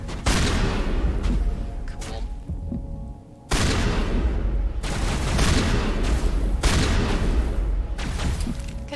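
Weapons fire in Mass Effect Legendary Edition as heavy sustained volleys, roaring in long loud bursts separated by short pauses, with deep booming low end and no talking.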